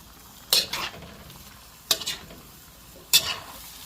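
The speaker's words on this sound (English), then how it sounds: "Give that a stir." Shrimp and broccoli stir-fry with paprika, parsley and cayenne sizzles quietly in the pan while a utensil scrapes through it in three distinct, evenly spaced stirring strokes, close up with no talking.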